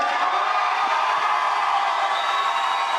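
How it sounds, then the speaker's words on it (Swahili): A Nairobi concert audience sends up a steady, loud wall of cheering and crowd roar that holds evenly throughout with no single voice standing out. "Watu wa Nairobi tupige makofi."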